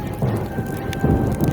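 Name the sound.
thunder sound effect in animated story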